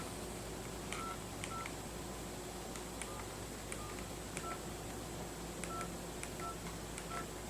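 Touch-tone DTMF dialing of the USA IBM technical support number: a quick series of short, clear beeps in an irregular keypad rhythm over a steady background hiss.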